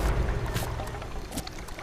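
Water boiling in a cooking station in the Fallout 76 video game, a soft bubbling, washing hiss that carries on steadily and fairly close for a couple of seconds with no one talking.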